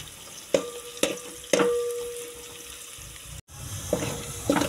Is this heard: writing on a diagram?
no